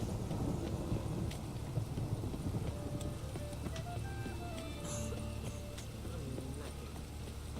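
Rain falls steadily in The Witcher 3, a constant hiss under a low rumble of thunder, with scattered soft tonal game sounds and clicks on top.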